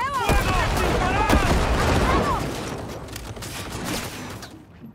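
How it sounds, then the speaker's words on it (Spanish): Close-range gunfire in the video game Cyberpunk 2077, with a dense, loud burst of shots and mechanical clatter over the first couple of seconds that fades to rumbling, while a voice talks excitedly over it. "¡Disparando a corto alcance!"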